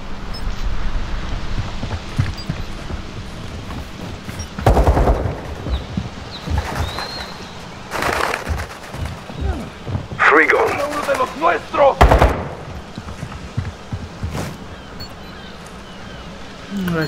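Gunfire in the video game Call of Duty Modern Warfare II, heard as several sharp, loud bursts spaced a few seconds apart over a busy game soundscape with wind and ambient noise, with voices talking between the shots.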